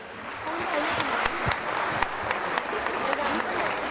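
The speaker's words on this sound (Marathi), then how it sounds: "या टीमसाठी जोरात टाळ्या झाल्याच पाहिजे" A crowd at a community organisation's event claps for the team, a sustained burst of applause with dense overlapping hand claps over the whole span.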